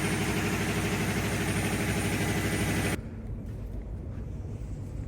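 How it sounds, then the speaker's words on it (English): A gas-powered 670 horsepower engine driving a big generator drones steadily and loudly close by, then drops abruptly to a quieter, lower hum partway through. "This is the engine that's running off the gas."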